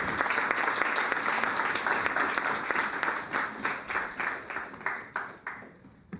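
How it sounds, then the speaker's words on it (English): A city council meeting audience gives a round of applause, a moderate crowd clapping steadily and then thinning into scattered, fading claps toward the end. "Let's give our president a round of applause."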